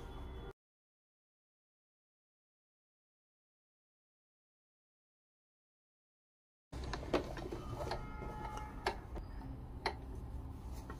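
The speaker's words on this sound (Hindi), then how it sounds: "इसके बाद इस कपड़े को इस तरह से पलटना है और यहाँ से सिलाई लगा देनी है।" A sewing machine stitches a pant pocket with a rapid ticking rattle of the needle. It runs close and fairly quiet for a short burst, then the sound drops to dead silence for several seconds before the stitching starts up again.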